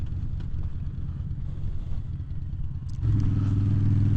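Motorcycle ride with steady low engine rumble and wind buffeting the microphone, the engine note deepening and strengthening near the end as the rider accelerates.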